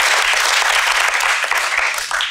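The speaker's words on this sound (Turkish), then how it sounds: "Alkışlıyoruz Kerem'e." A television studio audience applauds actor Kerem Bürsin in a loud, dense, continuous wash of clapping that fades slightly toward the end.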